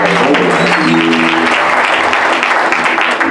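A church congregation claps steadily during a Super Bowl Sunday service, a dense, loud wash of hands with a brief sustained voice or tone in the first second and a half.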